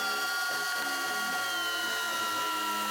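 A DeWALT or Flex cordless drill on first speed drives large lag screws, giving a steady, close motor whine with a grinding, ratcheting undertone that holds for the whole stretch.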